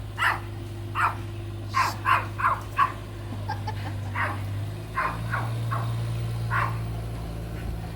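A dog barks in short bursts at a house building site, with a rapid cluster of sharp barks early and scattered barks later, over a steady low machinery hum with no talk.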